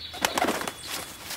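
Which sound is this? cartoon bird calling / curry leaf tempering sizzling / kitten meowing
cartoon bird calling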